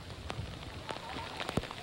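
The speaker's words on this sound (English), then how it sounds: "You can see behind me some of the demonstrators are huddling under this tent here, trying to keep their spirits up during this rain." Rain patters steadily on a tent sheltering protesters in St. Petersburg, a soft crackling hiss of drops with faint voices murmuring underneath.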